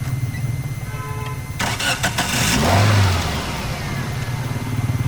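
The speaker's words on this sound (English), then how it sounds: "Now we have started the engine" A car engine cranks and catches after spark plug and ignition coil pack replacement, revs briefly, then settles into a steady, smooth, close idle.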